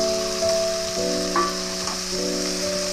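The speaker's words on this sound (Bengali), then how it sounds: "ঝিঙেটা একটু আলুর সঙ্গে অল্প ভেজে নেব।" Strips of ridge gourd frying with potatoes in a pan, a steady close sizzle with a faint scrape of stirring and no talk.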